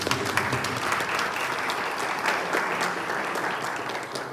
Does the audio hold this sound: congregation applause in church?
yes